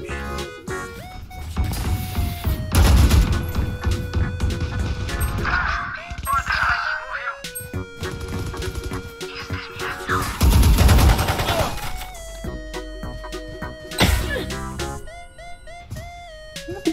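Gunfire and impact crashes from the tactical shooter Valorant, including a Vandal rifle: loud, rapid bursts and sharp cracks repeating across the stretch with short pauses, with faint voices talking underneath.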